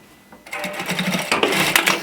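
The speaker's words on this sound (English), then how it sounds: "I'm just going to tack the placket just within the seam allowance" A sewing machine tacks a placket to a skirt just within the seam allowance, starting after a brief quiet moment and running as a steady close, continuous whir with a rapid needle rhythm.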